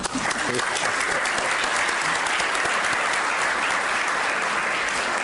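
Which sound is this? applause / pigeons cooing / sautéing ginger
applause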